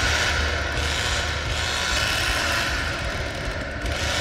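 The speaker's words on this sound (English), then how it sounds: "just revving the chainsaw is so good" A chainsaw revving in the video game Texas Chainsaw Massacre, a dense, loud continuous mechanical engine drone with rattling, buzzing texture and slight surges, held steadily for several seconds with no talk.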